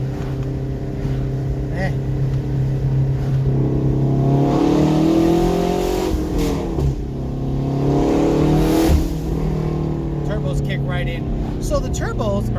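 A twin-turbo Ford Mustang GT350 with a Hellion sleeper kit running on E85 revs steadily and loudly, its engine note rising and falling with a brief drop mid-clip, while people talk over it.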